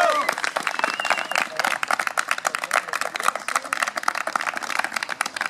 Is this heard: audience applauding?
yes